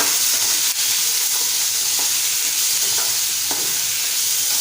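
Cucumber bhaji with Malvani masala and garam masala being stirred in a hot pan makes a loud, constant close sizzle, with a few light spatula scrapes and clicks scattered through the frying.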